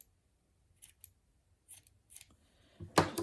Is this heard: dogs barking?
no